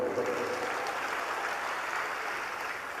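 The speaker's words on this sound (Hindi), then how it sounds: "अब अपने लिए ही ताली बजा लो खुद।" Steady applause from a large devotional gathering at a religious darbar goes on without a break. It sounds fairly distant and evenly spread, with no speech standing out.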